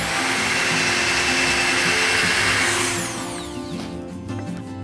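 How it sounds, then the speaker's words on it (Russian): A loud, steady high-pitched whine of a power drill with a poor bit boring holes for a nut bird feeder, running continuously, then winding down and fading toward the end. "Сверло просто плохое."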